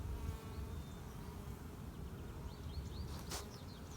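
A low, steady buzzing of many bees hums continuously up close during a queen bee hive inspection, with a few brief higher whines passing by.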